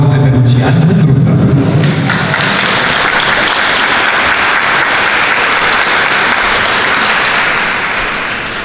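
Sustained audience applause fills a hall at a business conference in a palace venue, starting under a brief voice and then continuing as a dense, steady wash of many hands before easing slightly at the end.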